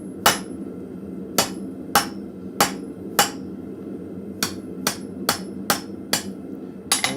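Steady hammer blows on a forged steel arrowhead socket in a blacksmith shop, about a dozen sharp ringing strikes spaced roughly half a second to a second apart, close and clear over a low forge hum.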